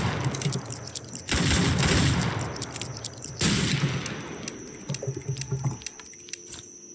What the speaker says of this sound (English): It's a 40 bullet automatic rifle.